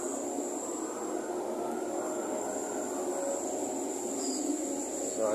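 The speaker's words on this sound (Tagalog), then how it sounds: "yung ating screw compressor" An ammonia refrigeration screw compressor runs steadily, a loud continuous mechanical drone with a high whine on top, unchanging and close.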